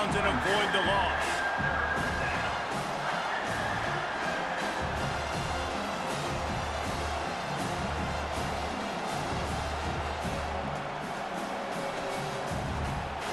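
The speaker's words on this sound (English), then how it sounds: "Decibels rising as the crowd gets behind this defense on 3rd down." Stadium crowd roar from the College Football 25 video game, Louisville Cardinals at South Carolina Gamecocks, swelling for a third-down defensive stand. A steady, dense wash of noise runs under continuous play-by-play commentary.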